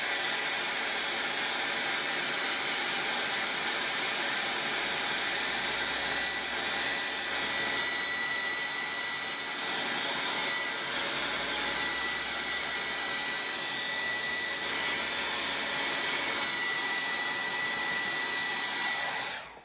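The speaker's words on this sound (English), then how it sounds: "Using hair dryer." Hair dryer blowing steadily at close range to dry chalk paint on a farmhouse wall decor piece, a loud continuous whooshing hum for about twenty seconds before cutting off.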